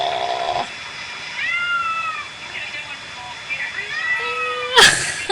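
A cat meows repeatedly while being bathed, a series of drawn-out, plaintive rising and falling cries close to the microphone, ending with a sudden loud splash or burst of noise.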